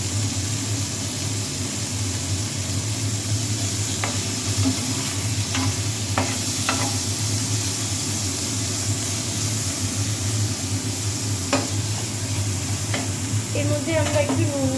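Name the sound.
minced chicken frying in a pan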